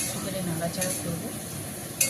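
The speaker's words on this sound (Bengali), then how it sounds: "নাড়াচাড়া করবো।" Ground spice paste being stirred in a cooking pan, with a soft continuous scraping and faint clinks of a utensil against the metal, a brief louder clink near the end.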